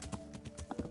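A horse's hooves clip-clop in Kingdom Come: Deliverance in a quick steady rhythm of soft thuds, close and moderately loud over faint background ambience.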